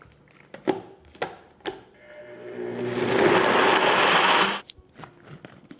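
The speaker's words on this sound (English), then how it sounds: "we're just gonna blend this up until those dates are completely pulverized." A blender runs for about two seconds, pulverizing dates with soy milk and vanilla extract into a smooth mixture, a loud steady whir that stops abruptly, preceded by a few sharp knocks and clatters.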